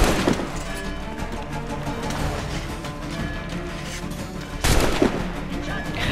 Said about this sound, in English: So just come to this gun rack and just shoot everyone.